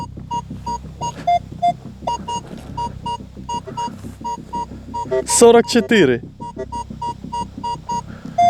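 Metal detector sweeping a field gives repeated short electronic beeps in a steady rhythm, then a louder warbling signal midway before the beeps resume; someone speaks briefly.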